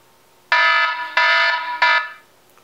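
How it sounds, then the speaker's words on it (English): A benchmark timer alarm sounds during an iPhone 4S versus iPhone 4 speed test: three loud, harmonic electronic beeps, each lasting about half a second, with short gaps between them and no one talking. "that was my timer"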